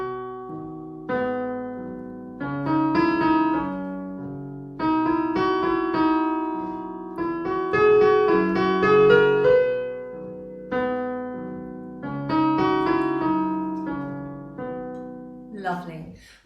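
Melody of a song played slowly on a keyboard instrument, sustained chords and a gentle tune in four phrases, alone without voice, ending with a brief clatter.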